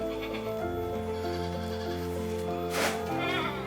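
A dairy goat at a goat farm in Dusun Kemiri Kebo lets out a long, wavering bleat, close and clear, with a brief rustle near the end.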